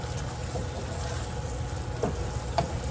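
Taco meat seasoned with smoked paprika fries and sizzles steadily in a pan on the stove. A few soft scrapes come through as it is stirred, close up and with no talking.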